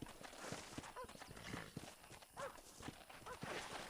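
Horse hooves clip-clop at a steady walking rhythm in the Western video game Red Dead Redemption, close and moderately loud, with someone talking over the hoofbeats and an occasional faint whinny.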